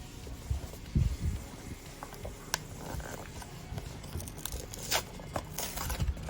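Someone unwraps a Digimon Adventure blind box package, giving close, continuous crinkling, tearing and rustling of plastic and cardboard with scattered sharp crackles and taps throughout, and no talk.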